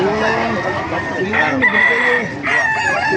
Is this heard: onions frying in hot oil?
no